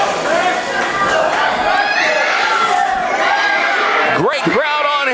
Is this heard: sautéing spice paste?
no